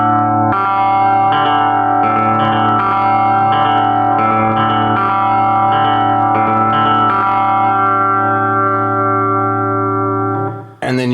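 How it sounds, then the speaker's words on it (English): Sustained electric guitar chords played through a Fender Champion 20 practice amp with delay and reverb engaged, loud and ringing with echoing repeats, then cutting off abruptly near the end. "And then we get into the reverb, or the delay and reverb."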